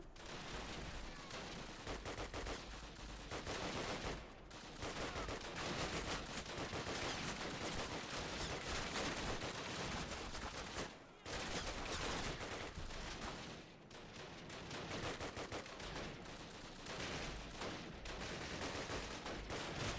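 Relentless, dense rifle and machine-gun fire fills the battle in Call of Duty (2003) during the British campaign at Bénouville, with overlapping bursts and brief lulls before the shooting resumes.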